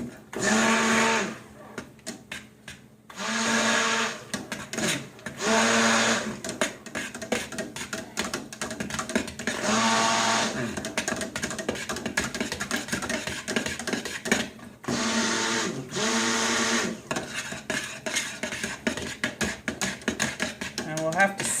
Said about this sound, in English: Invert my blender.